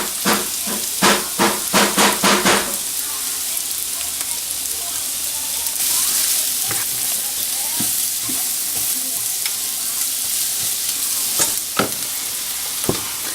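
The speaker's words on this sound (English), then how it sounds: "So now we're gonna add some garlic powder on top and stir them around a little bit." Beef sizzles and fries steadily in a hot pan as garlic powder is stirred through it, with a quick run of clattering spatula scrapes at the start and a few sharper knocks later, all close and without talk.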